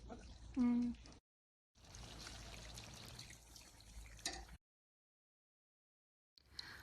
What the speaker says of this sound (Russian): Затем заливаем водой и варим до поглощения жидкости